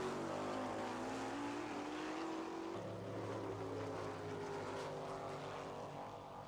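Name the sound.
drag racing car moving up to the start line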